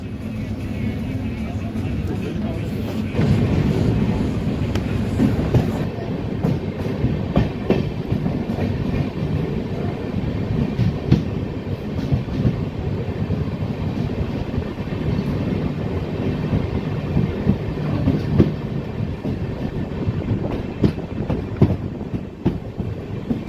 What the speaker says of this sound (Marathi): दौंड कॉड लाईनवरून आपली ट्रेन निघालेली आहे